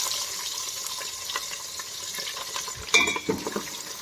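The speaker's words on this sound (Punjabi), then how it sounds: "ਇਹਨੂੰ ਆਪਾਂ ਹੁਣ ਹਲਾਉਣਾ ਥੋੜਾ ਜਿਹਾ ਇਹਨੂੰ ਬਰਾਊਨ ਕਰਾਂਗੇ" Onion frying with cumin in hot refined oil for a kadhi, a continuous close sizzle broken by stirring scrapes and a louder clatter near the end.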